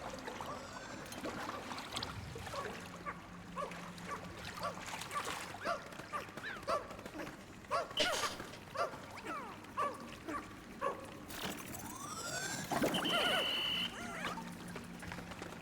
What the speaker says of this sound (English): My dog in Baldur's Gate brought me some salami.